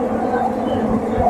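A metro train rushes through an underground tunnel with a low, steady rumble and roar heard close by.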